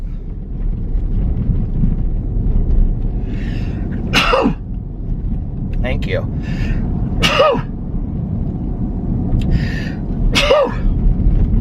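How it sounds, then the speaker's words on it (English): Three loud sneezes spaced a few seconds apart over steady wind noise, with a quiet spoken phrase between them. "And I always usually sneeze 3 times, which I hate."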